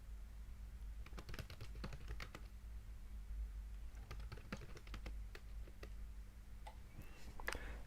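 Computer keyboard typing while entering product details for an online store listing: quiet, irregular bursts of key clicks over a low steady hum, with short pauses between runs of keystrokes.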